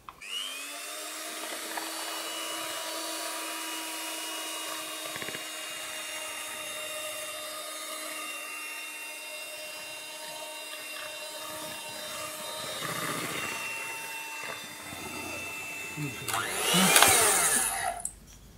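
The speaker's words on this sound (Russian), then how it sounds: "Конечно же, миксер опять будет шуметь" An electric mixer whirs steadily while whisking pie batter, a continuous close motor drone with a faint rattle, rising to a louder, harsher burst near the end.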